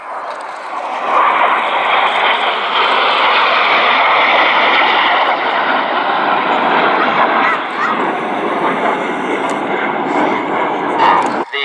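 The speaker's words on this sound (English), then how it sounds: "Following pilot is using a little rudder to swing the jets out like a pendulum." Red Arrows display jets fly in formation at an air show at Old Warden, Shuttleworth, producing a loud, sustained roar that fills the whole stretch, with a commentator talking over it.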